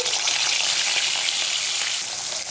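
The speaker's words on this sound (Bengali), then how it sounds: "মাছগুলো সাদা তেলেই ভেজে নিচ্ছি" Fish pieces fry in hot white cooking oil in a wok: a loud, dense, continuous sizzle with crackling spatter, close up and steady throughout, with no voices.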